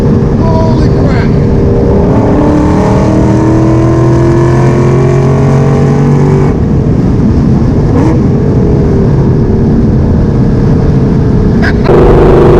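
An 800 wheel-horsepower Ford Mustang with a three-stage transmission revs hard and climbs in pitch through the gears, loud and close, with shifting tones and no talking.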